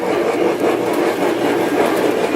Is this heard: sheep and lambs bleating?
no